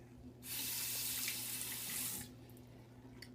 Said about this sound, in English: We're going to put a little hot water on the blade.